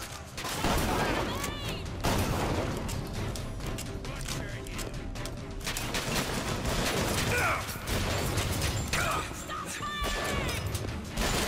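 Dense, continuous gunfire and crashing combat effects from the video game Bioshock Infinite, loud and chaotic throughout, with character voices talking over the din.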